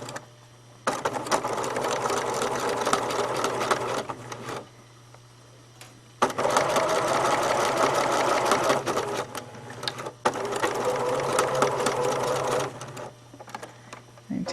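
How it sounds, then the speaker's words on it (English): A sewing machine stitches fabric strips together with a quarter-inch seam and backstitching, running in three loud steady bursts separated by short pauses, with a faint low hum throughout. "what I'm going to do is sew these together with 1/4 of an inch seam allowance"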